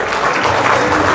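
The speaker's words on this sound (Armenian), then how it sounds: "Ապրեք ծափերի համար" Steady, loud applause from a crowd of guests at a family celebration marking a father's 60th birthday, a dense unbroken wash of clapping with no voices on top.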